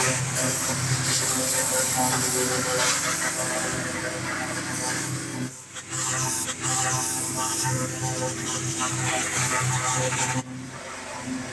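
Pressure washer spraying and power washing engine and drivetrain parts from a 1948 Willys pickup, a loud continuous hiss with brief pauses in the spray.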